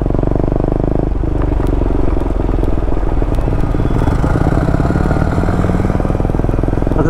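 A motorbike pulls in among a crowd at a fan meetup and settles into a loud, close, rapid-thumping idle that runs steadily throughout.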